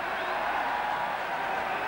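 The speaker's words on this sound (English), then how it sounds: "To the delight of the crowd." Large rugby stadium crowd at a 1995 New Zealand versus France test match roaring in approval after a penalty, a dense, steady wash of cheering throughout.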